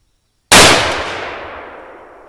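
A single sharp, loud 6.5 Creedmoor semi-automatic lightweight rifle shot firing a 120-grain round outdoors, a sudden crack followed by a long, fading rumble with no talk.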